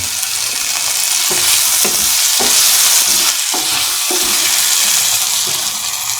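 A spoon scrapes and stirs through lemon potato rice in a hot pan, rhythmic scraping strokes over a loud, constant sizzle.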